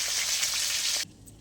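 Potatoes and snake gourd fry in a pan with a steady, bright sizzling hiss that lasts about a second and then cuts off abruptly.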